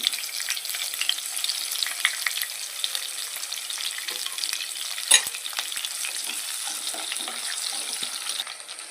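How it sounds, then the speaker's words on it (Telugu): Dried shrimp crackle and sizzle steadily in hot oil while being stirred, a dense continuous frying hiss with one sharper scrape midway and no voices. "ఆయిల్ వేడెక్కిన తర్వాత ఎండ్రైలు వేసేసుకుందామండి ఎండ్రైలు బాగా ఫ్రై చేసుకోవాలి"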